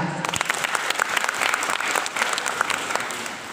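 An audience at an education dialogue event bursts into steady applause, many hands clapping at moderate distance, dense and even throughout with a faint hint of crowd murmur.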